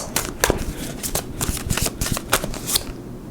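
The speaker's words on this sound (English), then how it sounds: "I shuffled it and it came back out again." Tarot cards riffled and shuffled by hand in a quick run of crisp, papery bursts, close and fairly loud, with no talking.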